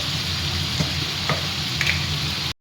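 Goat meat seasoned with salt and turmeric fries in a pan, a dense, loud, continuous sizzle with faint stirring scrapes, close up and ending in a brief cut near the end.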